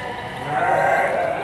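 Garut sheep bleat at a livestock market in Majalaya, Bandung, a single drawn-out nasal call rising in the middle and fading, close and fairly loud over a steady background hum.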